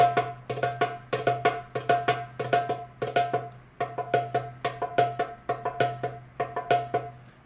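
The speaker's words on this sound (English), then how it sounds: "So it goes ring finger, index, tek, and then back to ka." Darbuka (doumbek) three-finger roll of ring finger, index and tek strokes, played as quick repeating phrases with short pauses between groups; crisp close hand strikes over a steady ringing drone, alone without talk.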